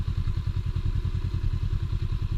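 A Honda Rebel 500 motorcycle rolls slowly with the clutch held and the rear brake dragging. Its engine gives a steady, low, loud, thumping rumble with an even pulsing beat throughout.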